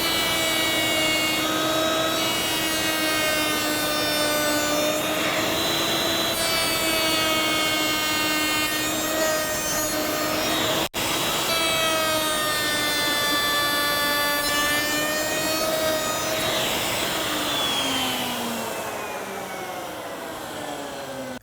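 A router cuts a profile along the edge of an MDF board guided by a coping sled, giving a loud, steady whine with a shifting pitch that holds for about twenty seconds before easing slightly at the end.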